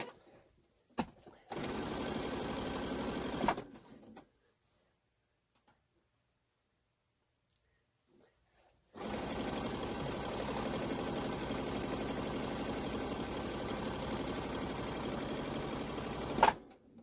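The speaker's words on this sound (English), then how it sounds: "My goal here is to sew this large chunk onto this chunk." Sewing machine stitching large chunks of fabric together for an art quilt, a loud steady motor whir in two long runs separated by a few seconds of near silence, with no talking.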